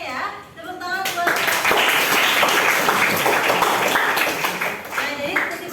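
Students in a classroom clap together in a sustained burst of applause lasting several seconds, dense and close, with a voice speaking faintly at the start.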